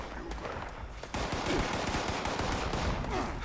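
Gunfire in Fallout 76 on the streets of Watoga: dense, steady shots that jump louder about a third of the way in, then continue as a sustained stream of rapid bursts.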